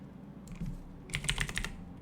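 Keys clack on a computer keyboard while someone solves NYT daily word puzzles, a brief light tap followed by a quicker burst of several crisp keystrokes, close and clear with no speech.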